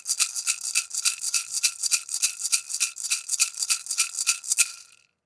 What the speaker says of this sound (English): It's maracas.